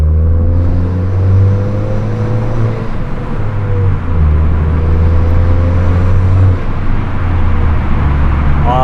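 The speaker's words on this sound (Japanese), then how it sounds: "やっぱりトンネルでマフラーの音を聞くのは最高だな" A Honda Civic FK7's engine drones loudly and steadily with low exhaust rumble, rising and falling slightly in pitch, reverberating inside a road tunnel on the Hakone Kintaro Line; no talking.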